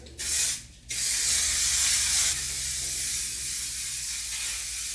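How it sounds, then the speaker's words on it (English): Aerogel hair spray hisses out of the can in a short burst, a brief pause, then one long steady spray close to the listener. "Sprayed more Aerogel all over."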